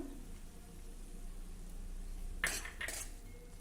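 A spoon mixes fresh coriander into cooked dingri vegetable in a pan, making two short scraping clinks near the end of an otherwise quiet stretch.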